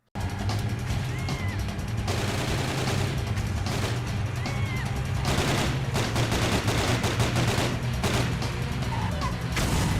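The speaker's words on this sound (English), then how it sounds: "drive-bys sound a little different, as if somebody would shoot an IMI Uzi from the side." In the video game Driver, a drive-by sounds like an Uzi fired from the side: rapid bursts of loud gunfire over a steady engine drone, with short gaps between volleys.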